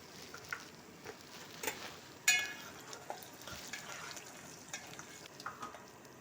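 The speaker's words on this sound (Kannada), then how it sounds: "ಕಡಲೆ ಬೀಜ ಕೆಂಪಾಗೋವರೆಗೂ ಚೆನ್ನಾಗಿ ಫ್ರೈ ಮಾಡ್ಕೊಳ್ಬೇಕು" Peanuts and lentils frying in oil in a pan, giving a steady close-up sizzle with scattered crackles and pops, plus one sharp metallic clink partway through.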